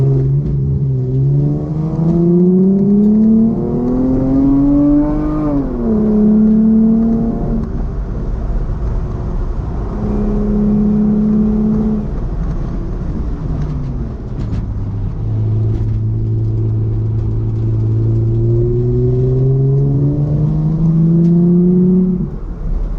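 A race car engine on a bumpy track with a chicane drones loudly throughout, its pitch climbing through the gears, dropping sharply under hard braking, then rising again as it accelerates, heard from on board with no talk.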